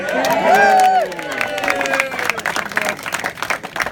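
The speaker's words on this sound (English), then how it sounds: "Give a round of applause" Wedding guests applaud during a best man speech at the reception, with a voice speaking over the start before a burst of clapping and crowd noise takes over, moderately loud and close.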